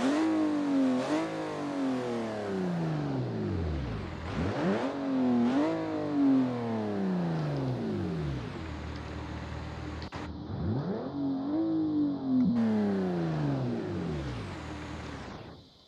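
A BMW E36 engine with a sports exhaust in a video game sound mod, revving hard through repeated rising pulls and gear shifts, each run ending in a falling drop, loud and close with no talk.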